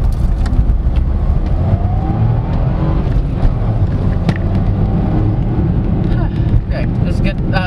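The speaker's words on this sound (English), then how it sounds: "Let's go for a dive. Finally diving the Suzuki S-Presso." A 2024 Suzuki S-Presso with a manual gearbox driving, its small engine droning steadily with road and cabin rumble throughout, loud and close from inside the car.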